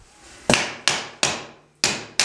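A hammer strikes during a house renovation in Roubaix, five sharp, ringing blows in a steady, spaced rhythm, close and loud with quick decaying tails.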